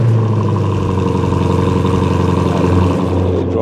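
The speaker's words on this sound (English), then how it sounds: "Let's start this up and see what this one sounds like." A Jeep Cherokee SRT V8 runs at a loud, steady idle close by, its deep low rumble continuous throughout with a slight rise in revs near the end and no talking.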